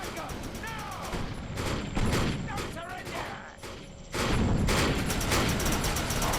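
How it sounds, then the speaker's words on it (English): Gunfire in the video game Defiance: repeated gunshots and bursts in a dense, loud firefight, rising sharply again toward the end, with a voice talking over the shooting. "Oh, what are you shooting at us?"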